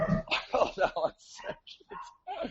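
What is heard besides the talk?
dogs barking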